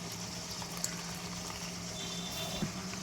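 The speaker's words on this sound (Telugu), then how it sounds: "ఒక్క 2 మినిట్స్ పాలను బబుల్స్ రానిచ్చేసి డ్రై ఫ్రూట్స్ వేసేసి" Milk with sugar and cardamom powder heats toward a boil for a semiya vermicelli sweet, giving a faint, steady bubbling hiss with a couple of soft taps from the pot.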